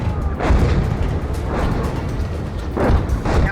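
A Soviet tank's cannon fires HEAT rounds in the Gunner HEAT PC video game, booming heavily several times close by over a rumbling background.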